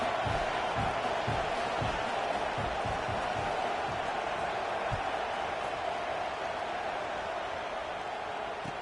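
A steady roar of a college football stadium crowd at a Notre Dame versus Texas A&M game fills the scene, dense and continuous with faint thumps underneath.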